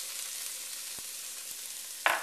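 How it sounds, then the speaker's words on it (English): Celery, peppers and onion sauté gently in oil for a Cajun trinity, a faint soft sizzle with a couple of light taps and a brief louder hiss near the end. "So you want to sweat these. We're going to saute them a little bit here."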